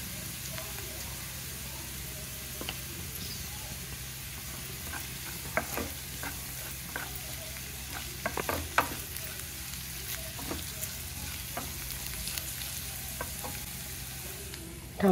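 Ginger garlic paste frying with onions in oil for a tomato curry, a quiet continuous sizzle with scattered light stirring clicks and a low steady hum underneath.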